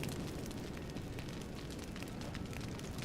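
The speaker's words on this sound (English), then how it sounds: "Explosions." Explosions in the video game Deus Ex: Human Revolution, a dense continuous rumbling blast noise with crackling bursts throughout, broadband and fairly loud, no voices.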